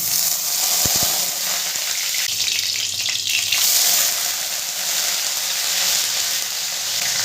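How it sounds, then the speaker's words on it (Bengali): Onion paste sizzles loudly and steadily in hot oil with cumin and a dried chilli for chana masala, a dense continuous hiss with a brief rumbling swell near the middle. "এরপরে দিয়ে দেবো পেঁয়াজ বাটাটা।"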